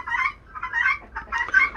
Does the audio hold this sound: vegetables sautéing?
no